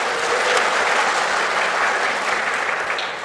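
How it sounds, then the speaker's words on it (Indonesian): Sustained applause from a church congregation at a thanksgiving service celebrating the men's fellowship, dense and steady throughout and easing slightly toward the end. "Kita tepuk tangan dulu, tidak apa-apa."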